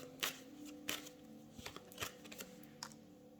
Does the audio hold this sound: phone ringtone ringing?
no